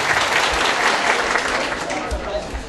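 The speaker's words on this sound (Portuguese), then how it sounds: "peço a ela uma salva de palmas para todos vocês" Crowd at a town hall event for the inauguration of an INSS office in Timbiras applauds loudly and continuously, a dense clapping that eases a little toward the end.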